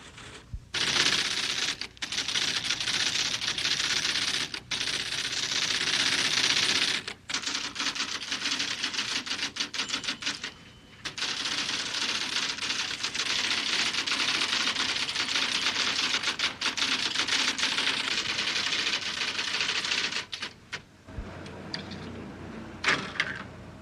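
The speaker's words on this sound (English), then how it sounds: "devotees retype the text on computerized machines that transfer each typed letter into an electronic code" Rapid, dense clattering of keys on a computerized typesetting machine that converts typed letters into electronic code for printing books in 1975. The loud, nearly continuous typing is broken by a few short pauses.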